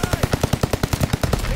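Rapid gunfire from a pistol in a video game, about a dozen sharp, evenly spaced shots fired in quick succession, loud and close with no talking.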